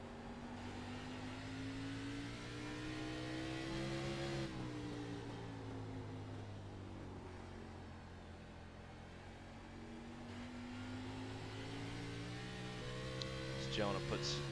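Stock cars lapping North Wilkesboro in a sim racing game, a steady droning engine note that climbs and falls gently through the laps, with a quick sharper burst near the end.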